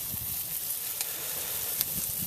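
Chicken breast and thighs cook over live coals on an El Fuego grill, giving a steady close sizzle and crackle with a couple of sharp pops.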